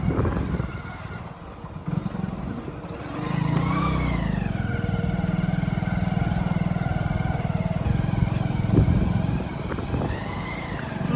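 A motorbike ridden to a riverside resort gives a steady mid-pitched engine drone that swells after a few seconds and holds, with a rising rev partway through, close and continuous.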